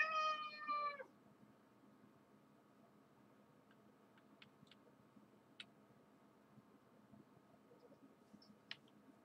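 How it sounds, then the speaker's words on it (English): A pet cat named Sawyer lets out one loud, drawn-out meow close by at the start, then the room falls quiet apart from a few faint scattered clicks. "Super loud cat."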